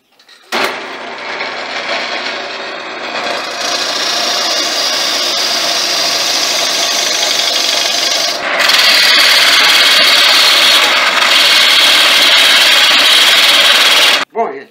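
A power tool cuts and finishes a carved wooden orchid with a loud, continuous whirring grind. It runs unbroken for over ten seconds, shifts to a brighter, harsher tone partway through, then cuts off abruptly.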